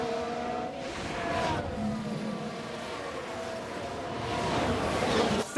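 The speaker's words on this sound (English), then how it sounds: "Sounds like someone's locked up." Car engines roar continuously in F1 Manager 2022 race coverage, with a sustained tyre squeal from a locked-up wheel rising over the engine noise, loud and close.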